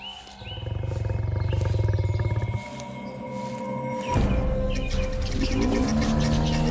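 A lion roars out on the savanna, loud deep repeated calls that shift in pitch and rise again partway through, heard alone without talk.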